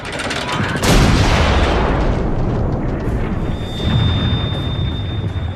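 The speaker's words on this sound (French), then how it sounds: "Les canons Skoda de l'artillerie autrichienne entrent en action contre Belgrade." Heavy booming blasts of Austrian Skoda artillery firing on Belgrade with rumbling, noisy decay; two big reports, the second fading into a long roar.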